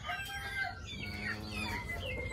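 Chickens cluck and fuss in a farmyard setting, a flock being treated for coryza, with a steady low hum beneath the soft overlapping calls throughout.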